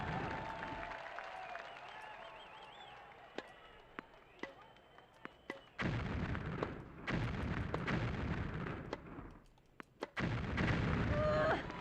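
Bombs explode in a bomb tennis video game, with sharp booming blasts and crackling bursts arriving in clusters over electronic game music and effects, loud and close, while people talk over them.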